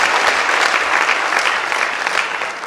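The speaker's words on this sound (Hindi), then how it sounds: "मैं चाहता हूँ एक बार मैडम के लिए भी जोरदार तालियां" Loud, dense clapping from an audience at a motivational speech event, continuous and even for a couple of seconds with no voices over it.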